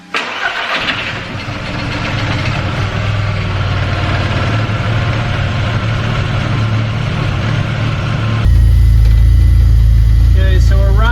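A VW MK1 Golf 1.8t engine with freshly changed fuel injectors cranks and catches, then runs at a steady, loud mid-pitched idle up close, growing heavier and deeper near the end.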